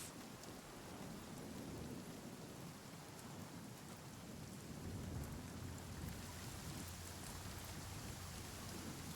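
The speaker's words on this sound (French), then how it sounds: "Il y a un petit problème avec les gouttes de pluie là." Steady, even video game rainfall fills the whole stretch with a low rumbling undertone, like a continuous downpour with distant thunder; no voices.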